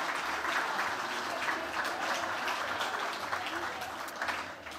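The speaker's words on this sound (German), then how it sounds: "Einmal Applaus dafür, dass Sie sich hierher begeben haben auf die Mary Jane." An audience applauds panel politicians at a hemp association podium during the Mary Jane fair, a sustained broad wash of clapping from a crowd with some voices mixed underneath, tapering slightly toward the end.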